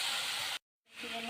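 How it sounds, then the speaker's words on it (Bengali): Onion, garlic and ginger paste sizzles as it fries in a pan for mustard hilsa curry: a steady close hiss that cuts out briefly, then resumes. "এখানে পেঁয়াজ বাটা, রসুন বাটা, একটু আদা রসুন বাটা দিয়ে ভালো করে কষিয়ে নেব।"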